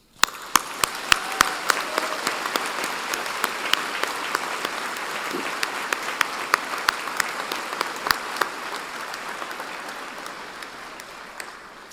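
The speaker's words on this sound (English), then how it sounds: "join me and the platform party in thanking them with a vigorous round of applause" A large convocation audience at a medical faculty graduation gives a vigorous round of applause, sustained clapping for about twelve seconds, with sharp individual claps standing out near the microphone.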